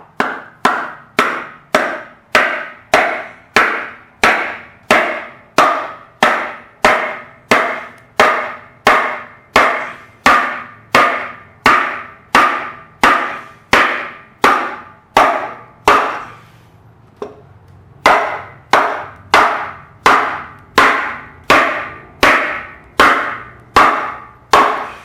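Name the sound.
hammering old liners out of tractor engine block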